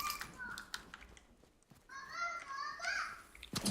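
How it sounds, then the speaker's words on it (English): Children shout and call out in a courtyard, their high voices rising and falling at a distance across several seconds, with a brief lull in the middle before the yelling picks up again. "You can probably hear the kids yelling in the courtyard."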